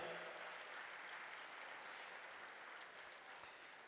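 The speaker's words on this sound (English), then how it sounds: "can you give a round of applause to all these 50 volunteers" Applause from an audience thanking fifty volunteers at an Onam Sadhya celebration, a soft, steady wash of many hands clapping at a distance that holds evenly throughout.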